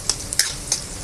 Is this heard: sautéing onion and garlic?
yes